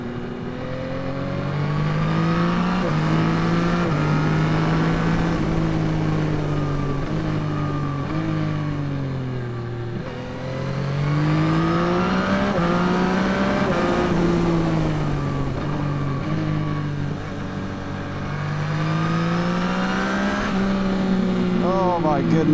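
A 2021 Yamaha MT-09 motorcycle engine under way on the road, droning loudly and steadily as it rises and falls through the gears in repeated revving sweeps with wind noise; no talking is heard.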